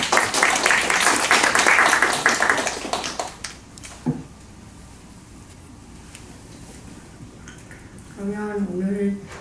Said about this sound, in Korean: 두 분께 박수